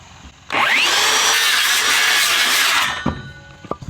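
A power saw cuts timber at a 45-degree angle, rising abruptly to a loud, steady high whine for about two seconds, then spinning down, followed by a few faint knocks.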